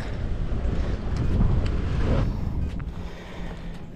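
Strong wind buffets the microphone at a lakeside launch spot for bass fishing, a loud, continuous rushing roar that swells and eases.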